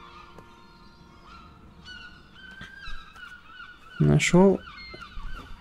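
In the video game RiME, birds let out a short burst of loud, nasal honks over a soft ambient music bed, with a brief spoken word just before.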